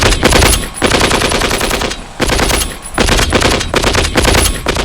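Heavy, sustained gunfire from a tank battle in the Vietnam War: loud, continuous automatic fire in long bursts broken by brief pauses, close and dense, with no voices.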